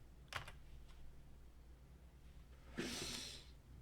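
Computer keys are pressed for a copy shortcut during quantity-estimating work, giving two brief faint clicks followed later by a louder rustling tap, close by in an otherwise quiet room.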